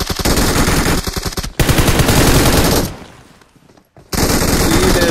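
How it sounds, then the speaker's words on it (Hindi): Rapid automatic gunfire in BGMI (PUBG Mobile), loud and close: dense bursts of shots run for about three seconds, fade briefly to a near-silent gap, then resume. "ओ पीछे पीछे फायर हुआ है"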